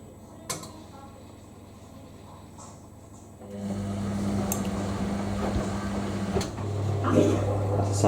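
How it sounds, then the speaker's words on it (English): A washing machine's drain pump runs after a pre-wash, a steady low hum starting partway through and continuing with a faint water rush, close by, after a quieter stretch of ticks and clicks. "That's the sound of the drain."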